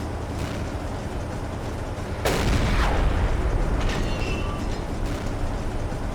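Deck gun on a U-boat in Silent Hunter 3 fires a single loud boom at sea, followed by a rumbling decay under steady ocean and engine noise.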